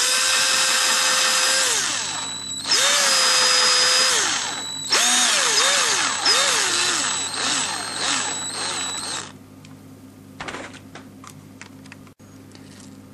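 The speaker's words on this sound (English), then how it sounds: "I'll drill this out. So this is a 3mm drill bit." A power drill runs a 3mm bit through material while fitting a Rostock U-joint, close and loud, spinning up in several bursts with pitch dips under load over about nine seconds, then stopping to near quiet with a few small clicks.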